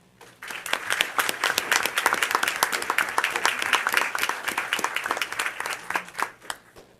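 An audience at a school board of education meeting applauds middle school students for a perfect score on 7th grade math, with crisp individual claps forming a moderately sized round that rises quickly, holds, and tapers off.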